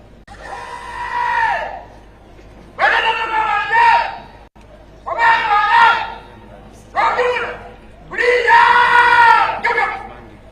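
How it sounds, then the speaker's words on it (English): A large crowd at a national independence day parade roars and cheers for the parade commander in repeated loud swelling waves, each lasting a second or two with brief lulls between. "A round of applause for the parade commander as he completes his duty today."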